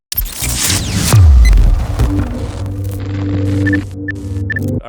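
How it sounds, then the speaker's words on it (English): A Davies Craig electric water pump running a coolant bleed cycle on a rear-mount radiator setup: a sharp thud and a falling whine settle into a steady, loud mechanical hum with a few faint high tones. "it will do a bleed cycle and it'll start bleeding the whole system. It'll max out everything, fans and all that. And I just leave that running."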